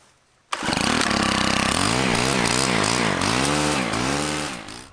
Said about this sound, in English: I go around with my weed trimmer and I just look for the easy weeds to take out with the weed trimmer